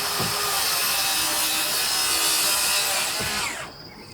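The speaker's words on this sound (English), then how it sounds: "my blade was set really deep, so I'm just cutting into the joist here a little bit" Battery-powered circular saw cutting into a wooden floor joist while building a shed, a loud continuous close whine that runs for a few seconds and then winds down.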